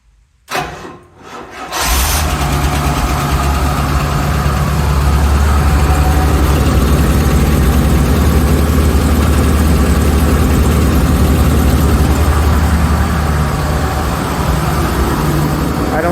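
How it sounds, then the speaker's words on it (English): The hydraulic pump of a Rolls-Royce Silver Shadow, run with an empty hydraulic reservoir, starts after a short clunk and then keeps up a loud, steady mechanical hum with no letup. "just running the pump."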